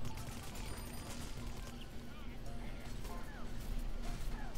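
Freezing turrets firing in Plants vs Zombies: Garden Warfare 2, heard as a steady patter of shots and clattering impacts amid game noise, with a voice talking over it.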